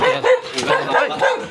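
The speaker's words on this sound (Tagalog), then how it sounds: "Nagalit sa atin yung aso mga idol." An angry dog barks in short, loud, close yaps and growly bursts, repeating several times in quick succession at a house entrance.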